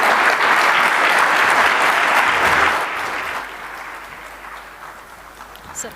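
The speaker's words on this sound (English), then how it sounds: "once again a big round of applause to Dr. Somnath, Chairman of ISRO" An audience applauds a talk by the ISRO chairman at a deep tech conference, with loud sustained clapping that fades over the last few seconds.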